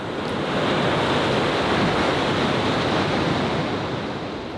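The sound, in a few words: ocean waves and surf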